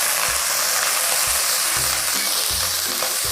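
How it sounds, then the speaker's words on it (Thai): Minced pork and fried garlic sizzle loudly and steadily in a hot pan, with a constant bright hiss and low scraping thumps as a spatula stirs the meat at irregular intervals. "เมื่อกระเทียมที่เราผัดเริ่มหอมแล้วเริ่มเกียม แล้วเราใส่ในส่วนของตัวหมูสับลงไปเลยค่ะ"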